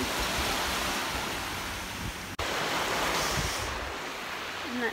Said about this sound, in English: Oh, little private beach. Yeah, a little private beach.